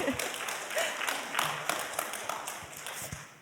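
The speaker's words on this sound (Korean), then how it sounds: "잠깐 박수 한 번만 보내주세요" Scattered clapping from a church congregation at a Sabbath school gathering, uneven and moderately close, with some murmured voices mixed in as it tapers off.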